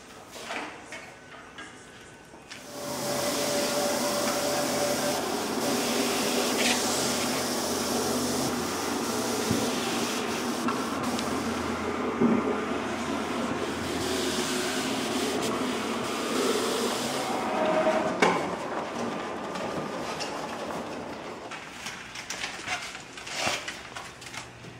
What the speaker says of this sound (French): Puis là, on va le découper avec la machine.